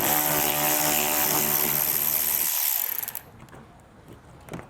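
A power tool whirs steadily and loudly while a socket spins off fascia panel fasteners on a 2014 Lexus, winding down after about three seconds into quieter clicks and handling noise.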